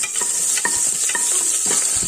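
Curry leaves fry in sizzling oil in a pan for duck stew, with brief stirring scrapes and a steady hiss filling the background, no voices.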